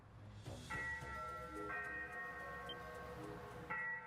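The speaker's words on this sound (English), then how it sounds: "The ship's bell." A ship's bell aboard a pirate ship in the Ys VIII: Lacrimosa of DANA video game rings out in a few ringing, sustained metallic strikes that overlap and decay, fairly faint against quiet ambience.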